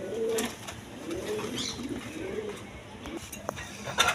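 Giribaz pigeons, a high-flying breed, coo in low repeated phrases, with faint chirps and a brief flutter near the end, all fairly close and without talk.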